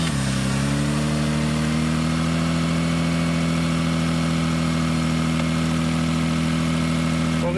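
A car engine turns over and settles into a steady, close idle during a roadside alternator check by a mobile mechanic, a continuous low rumble with no voices.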